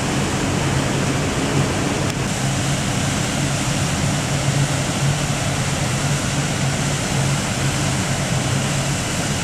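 Continuous broadband roar of water from a waterfall that over ages carved out the surrounding rock, steady and loud throughout with no talk.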